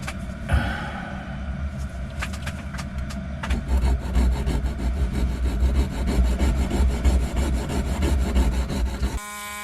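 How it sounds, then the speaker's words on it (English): A tool bit for fossil preparation is sharpened with a continuous rough, gritty grinding and rasping that runs close and loud for most of the clip, with some sharper scrapes early on. "first of all I'm going to sharpen this bit"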